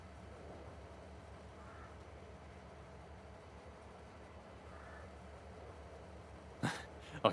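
A freight train in Farming Simulator rolls steadily through the whole stretch, a continuous low rail rumble with faint clatter, closing with a couple of sharper knocks near the end; no one talks over it.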